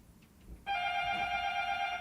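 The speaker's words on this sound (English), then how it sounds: "now we've got people ringing the bell" An electronic bell or chime starts abruptly after a moment of near quiet, then holds as a loud, steady ringing tone at a home during a live stream, with no talk over it.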